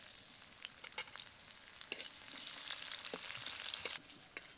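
Chopped onion frying in hot oil left over from frying fish, a steady close sizzle with crackling pops and intermittent scrapes of stirring, then a brief lull near the end.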